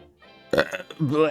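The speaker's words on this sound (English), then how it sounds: "Oh my god, I'm burping." After a quiet start, someone gives a loud, throaty burp, followed by a stretch of voiced sound close to the microphone.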